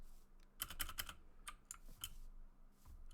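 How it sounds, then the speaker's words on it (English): Keys on a clicky mechanical computer keyboard are pressed in a quick irregular run of sharp, close clicks, some clustered and some spaced apart, with no talking. "I'm on a new clicky keyboard, so that's why it sounds like this when I'm pressing different keys."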